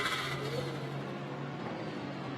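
A GT race car with a serious mechanical problem drones steadily at the 24 Hours of Spa, rough and uneven in tone, a faint whine running through it, sounding like it is struggling mechanically.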